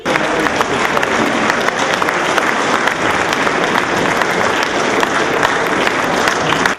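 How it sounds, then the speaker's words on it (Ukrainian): A packed hall in a community house bursts into loud, sustained standing applause for a women's chess champion, dense clapping filling the room evenly from start to finish. "Сьогодні у народному домі королеву шахів зустрічали помпезно під звуки гучних оплесків, стоячи."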